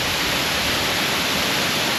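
Loud, steady broadband roar of rushing water from a waterfall close by, a constant hiss with no breaks.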